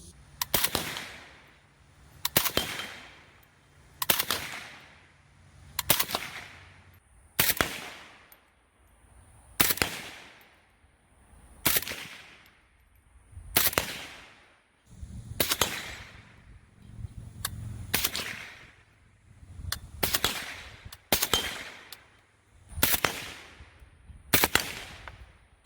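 AK rifle fitted with a Trijicon SRO red dot on a Sabrewerks mount, fired about fourteen times in a steady string of sharp, loud cracks roughly every one to two seconds, each with a brief ringing decay.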